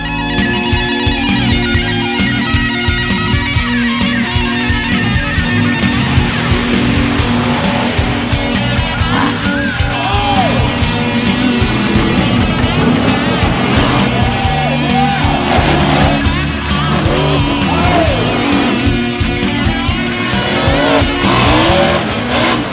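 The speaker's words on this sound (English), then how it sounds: "Screaming 800 horsepower engines echo through the farmlands of Windsor" Modified tuff trucks with 800-horsepower engines race on a dirt track in the Windsor, Pennsylvania farmlands, engines screaming loud and continuous with revving pitch sweeps and tire squeal throughout.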